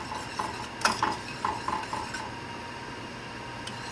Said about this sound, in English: Keep stirring.